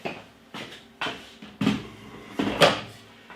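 A beer keg slides into a Philips Perfect Draft home draught machine, heard as a series of close hollow plastic clunks and knocks spaced about half a second apart, with a brief scrape near the end and no talking.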